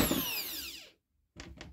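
Makita RT0702C compact router wired through a relay for remote control, running with a high whine that winds down to silence, then two short bursts as the motor briefly spins up again.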